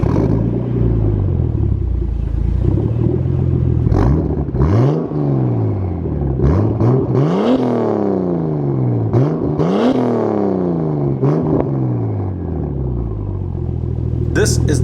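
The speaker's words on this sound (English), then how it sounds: "I got a new exhaust. I went with a Tomei Extreme titanium full turbo back" Nissan Skyline R34 GTT fitted with a Tomei Extreme titanium full turbo-back exhaust, loud and close, blipped through a series of sharp rev rises and falls with crackly drops between, idling rumble underneath.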